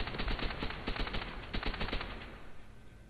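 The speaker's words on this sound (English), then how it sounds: "I shouldn't have started firing." Rapid bursts of automatic gunfire from Call of Duty: World at War, a World War II shooter, crackling loudly and nearly continuously, tapering off slightly toward the end.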